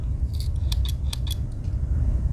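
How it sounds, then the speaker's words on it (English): Scissors on a Victorinox Climber Swiss Army knife snip several times in quick, irregular succession, crisp metallic clicks over a low background rumble. "With the standard scissors"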